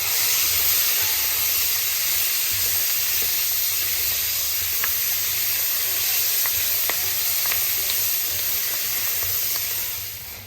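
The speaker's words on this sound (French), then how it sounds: "dans la même poêle, on va faire revenir tous nos accompagnements" Lamb garnish sautéing with olive oil and butter in the same frying pan the lamb was browned in, giving a steady, close, loud sizzle that runs unbroken throughout, with occasional faint stirring clicks.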